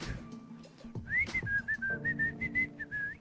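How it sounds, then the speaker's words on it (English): A person whistles a bright melodic tune in short, evenly spaced notes that rise and hold, clear and fairly close over low background hum. "So now my whistling can come back"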